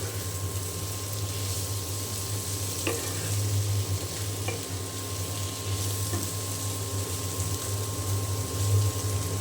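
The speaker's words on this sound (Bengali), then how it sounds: "এখানে আমার এই যে পটল ভাজিটা হয়ে গিয়েছে আমি এখন নামিয়ে নেব" Pointed gourd (potol) fries in a pan with a steady, moderate sizzle and a faint hum beneath, with a few light taps from the cooking utensil.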